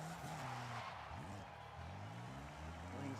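Car in a racing video game, engine droning and shifting pitch as the tires skid and squeal through turns, fairly quiet and continuous.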